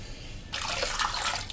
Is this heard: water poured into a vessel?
yes